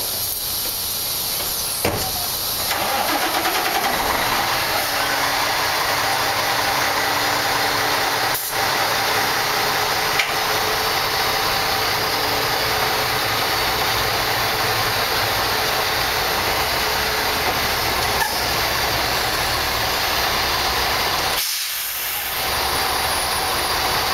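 A truck tractor engine roars steadily as the rig pulls away after uncoupling from its trailer, a loud continuous drone with air hiss and brief clunks throughout, no talking.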